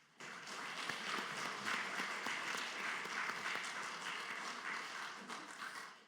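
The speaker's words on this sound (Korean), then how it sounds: "우리 박미연 성도님 환영하는 박수 한번 하도록 하겠습니다" A church congregation claps to welcome a returning member during Sunday worship, a full, steady burst of applause that rises quickly and holds for several seconds before tapering off.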